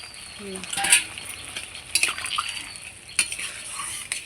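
Water poured into a pan of potatoes frying with spices, giving a sharp sizzle and hiss with a few scattered clinks of utensil against the pan.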